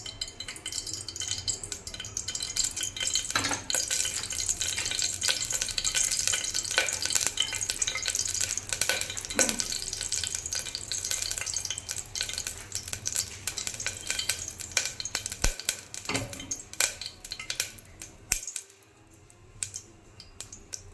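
Oil heating and frying in a pressure cooker while a Tamil head curry is prepared, a continuous crackling sizzle with intermittent scraping and clinking of a metal ladle against the pot and a brief pause near the end.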